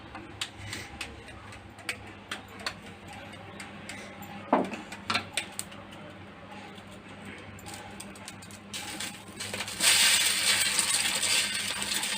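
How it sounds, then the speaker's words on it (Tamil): Quail eggs are cracked and poured onto a hot dosa tawa: a series of faint light taps and clicks, then a sudden soft steady sizzle as the egg hits the pan near the end. "தோசை தவா நல்லா காஞ்சிச்சு இப்போ நம்ம முட்டையை உடச்சி ஊற்றிடலாம்"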